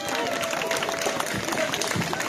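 An audience claps at a cosplay show contest at Comic Salon Erlangen 2024: dense, continuous applause from a crowd filling a hall, with murmured voices mixed in.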